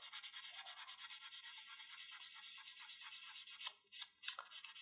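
Medium-grit sandpaper rubs a white plastic Gunpla model part in quick, steady back-and-forth strokes, a soft close scratching that stays even and then breaks into a few sharper, separate passes near the end.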